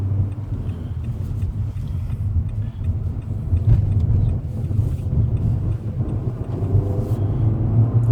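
A 2016 Nissan Altima 2.5 SR driving in sport mode gives a steady, low engine drone and road rumble from inside the cabin, swelling slightly as it pulls, with no talk.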